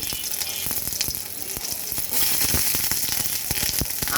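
Whole garlic cloves frying in hot oil in a wok, a loud, close, continuous sizzle with crackling pops that grows slightly stronger partway through, with no talking.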